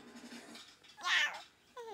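A person imitates a cat with a short, rising-and-falling meow. The imitation stands out between quiet murmurs of children's voices.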